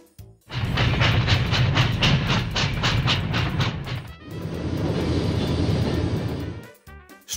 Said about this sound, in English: Locomotive train.